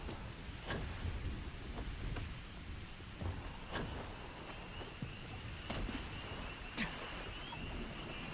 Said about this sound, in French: Ah bah, il pleut forcément.